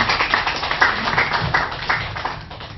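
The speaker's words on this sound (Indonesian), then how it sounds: "Tepuk tangan dong bagi Yesus dan firman-Nya." Church congregation clapping hands during a Sunday worship service, a fairly even run of claps with a muffled, roomy quality and moderate loudness.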